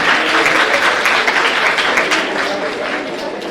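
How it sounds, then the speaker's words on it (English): An audience at a talk about cancer bursts into a big round of applause, dense and close, with steady clapping that eases slightly toward the end. "Please give a big round of applause"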